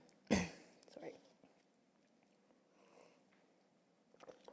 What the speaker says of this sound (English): I have a little cough that won't go away sometimes.